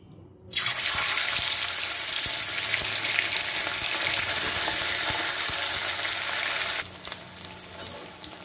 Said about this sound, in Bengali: আমি কড়াইয়ে তেল দিয়ে দিয়েছি, তেলটা যথেষ্ট তেতেও গেছে। এবার আমি মাছগুলো ছেড়ে দিচ্ছি।